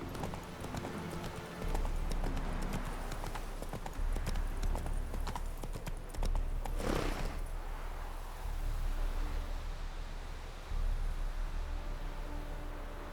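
Hooves of the horse Roach in The Witcher 3 clip-clop at a steady walking rhythm, coming in repeated bursts with faint background ambience between them.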